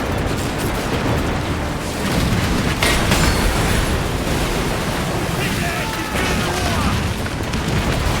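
Ship cannons fire during a naval battle in Assassin's Creed Black Flag, with a few heavy booming blasts breaking through constant crashing surf and wind.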